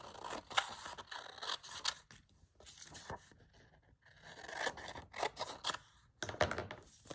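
Scissors trim paper for a handmade journal: a quick series of crisp snips and short scrapes, close and clear, coming in uneven bursts with brief pauses between cuts.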